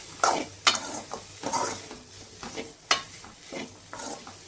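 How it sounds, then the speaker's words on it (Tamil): Bitter gourd stir-fry with spice powder is stirred in a pan over a low flame: rhythmic scraping strokes of a spoon on metal, with a soft sizzle underneath and a few sharper knocks. "போட்டு நல்லா கிண்டி விட்டுக்கலாம்"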